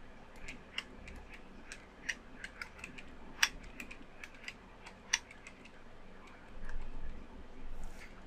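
Keys on a computer keyboard tapped at a scattered, irregular pace, with light, quiet clicks spaced through the stretch and a couple of sharper strokes standing out.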